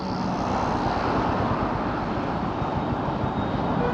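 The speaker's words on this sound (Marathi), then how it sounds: "थोडं इंजिन ब्रेकिंग कर लेते हैं आपण." Motorcycle engine braking while riding on the road, with a steady, loud roar of engine and wind rushing throughout and no speech.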